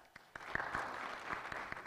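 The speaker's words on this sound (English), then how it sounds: "show by your applause" Audience applause at a Sunday church service, a short burst of clapping from the congregation with sharp individual claps standing out over a steady wash, moderately loud and without talk.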